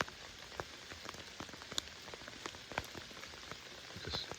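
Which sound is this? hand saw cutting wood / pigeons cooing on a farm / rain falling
rain falling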